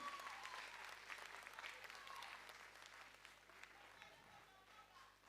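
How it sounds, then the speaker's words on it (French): An audience at the tuSeo 2024 festival applauds for the chief, a dense, steady wash of clapping that holds strong throughout, with a crowd murmur and talk underneath. "On applaudit pour le chef."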